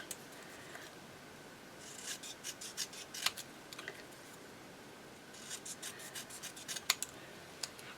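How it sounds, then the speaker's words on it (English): Scissors snipping paper for a junk journal, a series of soft, close, crisp cuts in two bursts with short pauses, quiet, with no talking. "Let's just cut this down a little bit."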